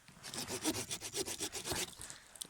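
A hand saw cuts through a hazel branch in quick, rhythmic back-and-forth strokes, rasping and close, for a few seconds before stopping.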